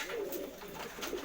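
A high-flying pigeon cooing softly, a low, brief throaty murmur that is faint and alone.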